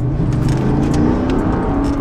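Engine and road noise from a Lexus GX 460 SUV on a bumpy dirt road, heard from inside as a loud, steady rumble and drone with no speech.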